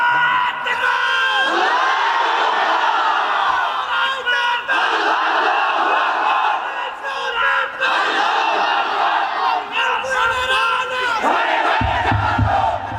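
A large crowd at a religious sermon roars the takbir chant, loud, massed voices repeating in several surging waves across the whole stretch, close and sustained.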